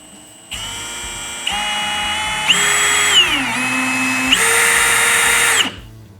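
An electric drill runs at low speed with a cutting accessory and cutting oil, a steady loud whine that starts up and shifts pitch several times as the load changes, then cuts off abruptly.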